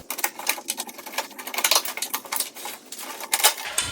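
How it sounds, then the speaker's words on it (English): A multi-bit 1/2-inch nut driver removes lock nuts from the chute of a Toro snowblower, giving a busy run of close, light metallic clicks, rattles and clinks that continue without pause. "we're using the multi-bit 1/2-inch nut driver. The nuts we'll be removing are lock nuts."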